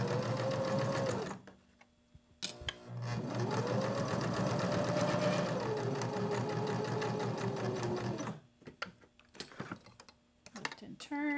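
A sewing machine stitches a hem on a beginner soap holder project, running in steady bursts of rapid needle clatter with short pauses between runs as the work is turned.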